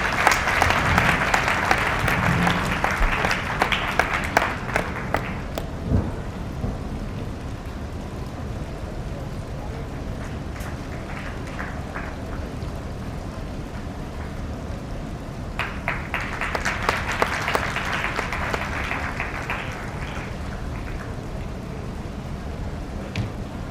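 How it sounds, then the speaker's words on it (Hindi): An audience applauding at an idol consecration ceremony at a Vedic school in Gothmanglod, steady moderate clapping for several seconds that dies down, then a second swell of applause later on. "हम सब लोग तालियों की गूंज उनका की।"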